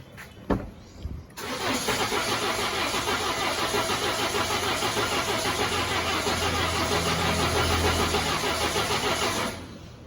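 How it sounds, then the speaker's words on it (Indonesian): A Peugeot 408 car engine after a tune-up, with a couple of short cranks and then a prolonged cranking that catches and settles into a steady, loud idle at close range before cutting off. "kalau udah dibersihin ruang bakar ya, starternya agak panjang biasanya"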